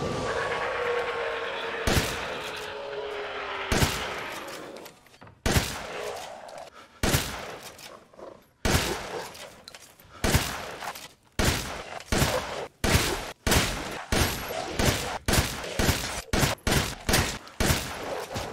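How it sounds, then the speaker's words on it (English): Repeated blasts of an M1897 pump shotgun fired at an armored large Lycan in Resident Evil Village, loud sharp booms coming in a steady rhythm roughly every second over a rumbling game background. "I'm gonna test the shotguns on a large Lycan"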